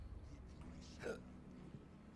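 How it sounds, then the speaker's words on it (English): A single short hiccup from a man sounds once, close and fairly quiet, against a steady background hum. "I got the hiccups"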